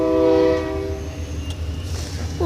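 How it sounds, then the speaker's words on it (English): A train sounds its horn in a loud tonal blast near a station, then the blast cuts off and a low rumble of the passing cars continues at moderate distance. "Here's a train."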